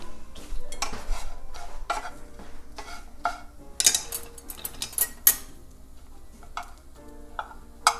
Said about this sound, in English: I'm going to give my pitas a quick flip before we do our next step.